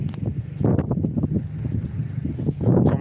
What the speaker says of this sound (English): Oh yeah, lots of crickets.